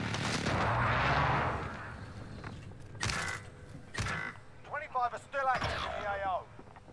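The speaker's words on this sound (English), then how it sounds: "Enemy precision airstrike." Precision airstrike explosions in Call of Duty Warzone: several heavy booming blasts spaced a second or so apart, with people talking and a voice line over the impacts.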